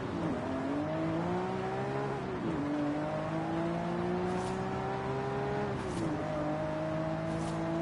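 In a racing video game, a car's engine revs steadily in a sustained droning tone that dips and climbs as gears shift, with faint hissy bursts like wheelspin, playing alone without talk.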